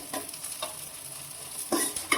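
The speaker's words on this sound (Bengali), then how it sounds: "পেঁয়াজটা একটু হালকা ভাজা হোক" Chopped onion frying with shrimp in a pan, a steady soft sizzle broken by a few sharp stirring scrapes and clinks near the end, close and moderately loud with no talk.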